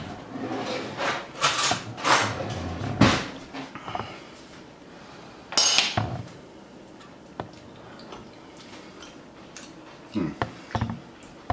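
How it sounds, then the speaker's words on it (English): Guacamole stirred with a spoon in a bowl: a string of irregular scraping knocks and clicks, close and moderately loud, with short pauses between bursts. "So I'm going to mix this all up like so."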